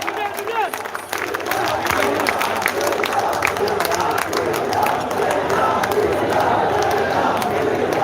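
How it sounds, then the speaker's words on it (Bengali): A large crowd at a political rally roars and claps to greet an arriving procession, dense continuous cheering and applause with shouting voices mixed throughout. "আমরা করতালির মাধ্যমে তাদেরকে স্বাগত জানাই।"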